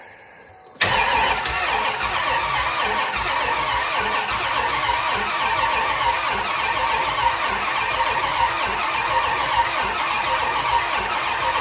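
Quiet at first, then a truck's 8.1 Vortec engine catches abruptly and settles into a loud, steady running rumble that continues throughout.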